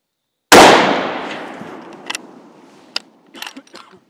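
A single loud rifle shot cracks nearby, its report trailing off in a long fading echo, followed by a few faint clicks and knocks, at a shooting range with steel gong targets.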